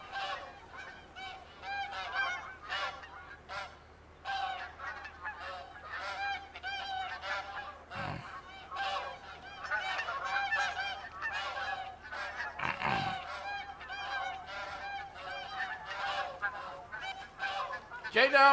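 Snow geese in The Hunter: Call of the Wild, Askiy Ridge, honking steadily as a dense flock, calls overlapping and continuous through the whole stretch, with a few sharper bursts standing out.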